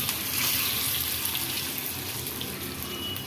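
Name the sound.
tempering spices sizzling in hot oil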